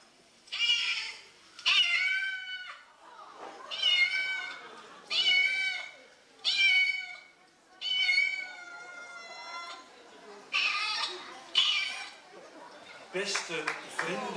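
Repeated cat-like meows, about nine drawn-out calls in a loose rhythm, ring out on stage during a 1990 youth group variety show, fairly loud and clear, with some crowd noise and chatter toward the end.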